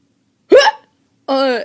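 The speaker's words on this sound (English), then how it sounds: "You have the hiccups?" Two short, abrupt hiccups sound close and clear, the first a sharp squeaky gulp and the second a longer voiced hic, separated by silence.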